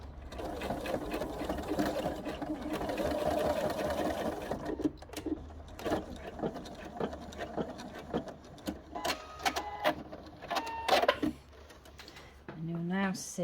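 A sewing machine stitches gently over a fabric seam in rapid mechanical bursts, pausing and restarting in short runs with a few clicks, while a person talks nearby.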